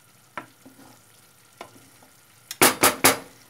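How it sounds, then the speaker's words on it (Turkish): Chicken sauté stirred in a pan: a few faint light scrapes, then three loud, close, rapid strokes of the spoon through the sizzling meat. "Şöyle bir harmanlıyorum, karıştırıyorum yani."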